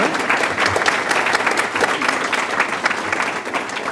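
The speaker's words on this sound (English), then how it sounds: "Let's give her a round of applause too" A school board meeting audience in Hopkins claps warmly for a staff member being recognized: a steady, full round of applause from a roomful of people, lasting a few seconds with no pause.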